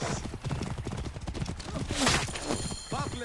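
Horse hooves in Assassin's Creed Origins, with a horse carrying two riders. The quick, steady clip-clop comes up close, mixed with game noise and a brief whinny.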